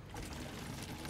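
Water poured into diesel fuel taken from a car, a steady broadband splashing pour lasting about a second, moderately loud and continuous with no voices.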